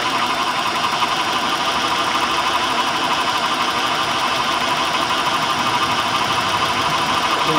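A Honda engine under diagnosis for a P1399 code idles steadily and loudly, a continuous rough running drone with no speech.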